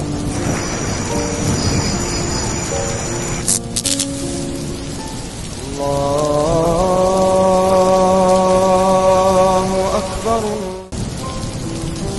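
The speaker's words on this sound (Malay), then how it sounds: "dekat luar masih hujan tu" Steady rain patters outside, a constant wash of falling water with tonal hums and background noises layered over it.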